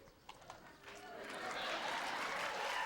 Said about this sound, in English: An applause break.